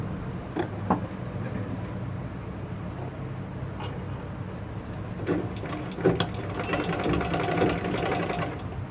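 A sewing machine stitching blouse pieces runs in bursts of rapid mechanical clatter, close and steady, with a few brief pauses and small clicks between runs.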